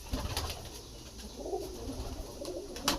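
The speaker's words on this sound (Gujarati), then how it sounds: "પક્ષી ઘર છે ને સફેદ પારેવા ભાઈ લોટ ઓફ છે." White pigeons cooing at a bird house near a Hanuman temple, soft low coos repeating under a faint outdoor hum, with a few light taps and flutters.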